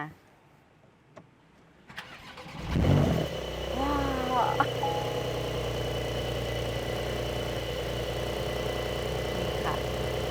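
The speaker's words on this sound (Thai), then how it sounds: "ได้เวลาสตาร์ทรถฟังเสียงคำรามแล้วค่ะ เพราะคันนี้เป็น Option Sport Exhaust" A Porsche 911 with the optional sport exhaust cranks and fires, a sudden revving roar that spikes and then settles into a deep, steady idle rumble; someone speaks briefly before it starts.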